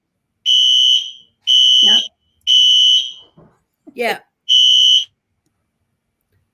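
Indoor fire alarm sounds four loud, shrill repeated beeps, each about half a second long with short gaps, and a voice speaks briefly between the beeps.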